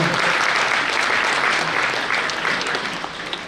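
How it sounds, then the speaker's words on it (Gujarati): An audience at a foundation-stone ceremony for a Jain boarding school claps loudly and continuously, a dense, close burst of applause that tapers slightly toward the end. "એકવાર એમના માટે જોરદાર તાળીઓ લઈ"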